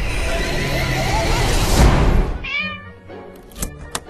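A noisy burst of sound gives way to a cat's meow, followed by a few faint thumps.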